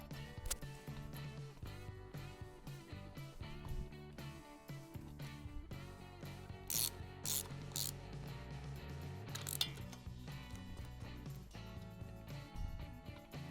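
Washers and nuts are fitted onto the studs of a 1776cc VW engine with a ratcheting tool. The ratchet gives quiet, rapid clicks with metallic taps and clinks. The sound is close and faint and runs steadily throughout.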